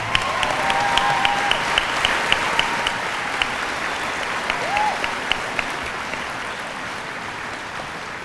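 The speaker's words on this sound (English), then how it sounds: "give her a round of applause" Applause from an audience at a commemorative walk event, a steady broadband patter of clapping that holds for several seconds, with a few louder individual claps and a brief whoop rising in the middle.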